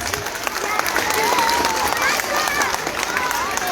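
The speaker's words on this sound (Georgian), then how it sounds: "აპლოდისმენტები პირველ კლასელებს" A crowd applauds first graders at a school knowledge celebration in Tsqaltubo, steady loud clapping throughout with some cheering and voices mixed in.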